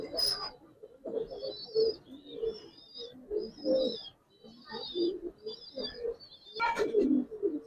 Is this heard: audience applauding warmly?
no